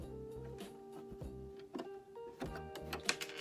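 A sewing machine stitches down a fold of thrifted fabric, its motor whirring in short humming bursts that start and stop repeatedly with brief pauses between runs, close and moderately quiet.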